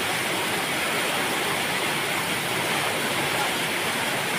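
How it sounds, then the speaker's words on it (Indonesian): Heavy rain pours down outside a mosque as a dense, unbroken roar of hissing water that stays loud and even throughout. "Hujan deras."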